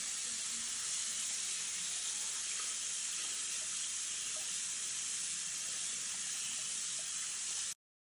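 Dandelion roots being washed under running tap water, a steady even hiss of flowing water at moderate level throughout, ending abruptly.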